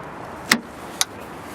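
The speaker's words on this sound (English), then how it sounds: "To lock it, press this black button once and it locks the car" Nissan Juke Nismo locking via the smart key button, two short sharp clicks about half a second apart, the first slightly fuller, close by in a quiet setting.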